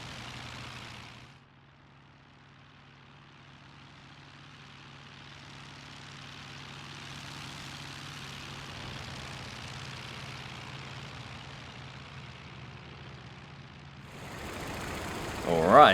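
A Po-2 biplane's propeller engine drones steadily in flight in a video game, a continuous mid-level hum that swells slightly over time before a brief louder burst at the end.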